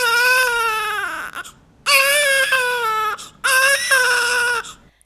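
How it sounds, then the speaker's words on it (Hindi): A newborn cries loudly in three long, strong wails separated by short breaths, close and clear with nothing else heard. "शिशु जोर से रोता है।"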